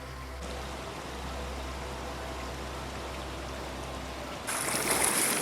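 A river in the Konkan region flows steadily over rocks as a continuous, moderately loud rushing wash that grows brighter and louder near the end, with no voices.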